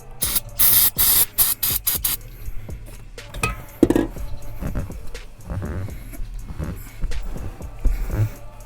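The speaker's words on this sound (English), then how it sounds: "Got the brake parts cleaner. I'm gonna spray it directly on here." Several short, forceful sprays of brake parts cleaner hiss from an aerosol can up close onto cloth car seat upholstery, followed by softer rubbing and clinking sounds.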